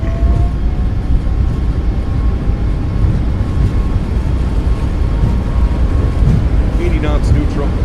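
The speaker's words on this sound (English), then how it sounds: "Takeoff power set." Boeing 737 MAX 8 engines rumble steadily in a flight simulator as they spool to takeoff power, a continuous loud low roar with a faint tonal whine, and some brief higher chirps near the end.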